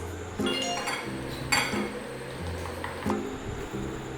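A utensil mixes red velvet cake batter in a bowl, making repeated clinking and scraping strokes against the bowl in an uneven rhythm, close and fairly loud, with no talking.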